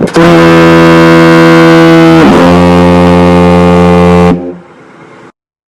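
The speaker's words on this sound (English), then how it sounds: "if you don't remember what a foghorn sounds like" A single long, very loud foghorn blast booms with a deep, harsh tone, held steady for about four seconds before it cuts off and fades.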